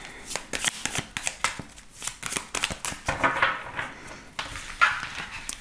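Tarot cards are shuffled for a reading, a close run of crisp riffling and flicking strokes in uneven bursts, with a faint voice briefly behind.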